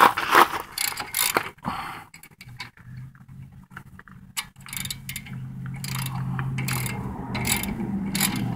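A ratchet works loose a very tight lower brake caliper bolt on a Dodge Grand Caravan's front brakes, giving bursts of rapid clicking pawl ticks with metallic knocks and short pauses in between.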